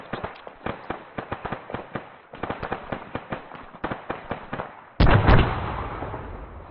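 Two frag grenades thrown onto the same spot during a military field training exercise burst in quick succession, a loud close double blast with a long rumbling tail, after several seconds of sharp rapid gunfire cracks.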